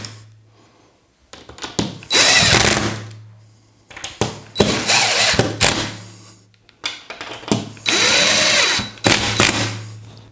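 Power drill driving the mounting screws of a James Loudspeaker QXC820 in-ceiling speaker, three separate loud bursts of whirring with short pauses between, close up with no talking.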